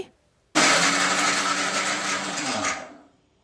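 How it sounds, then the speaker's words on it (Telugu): A kitchen mixer grinder grinds roasted, peeled peanuts, starting abruptly with a loud, steady whirring roar that runs for about two and a half seconds before winding down and stopping. "పీనట్స్‌ని పొట్టు తీసేసుకొని మనం మిక్సీ అయితే పట్టుకోవాలి"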